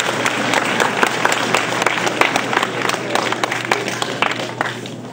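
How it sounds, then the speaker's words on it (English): Audience applause at a high school commencement ceremony at St Joseph Academy of Valenzuela, a dense, sustained clapping from a large crowd in a hall, steady throughout with a hum underneath. "Everyone, let us give her a round of applause."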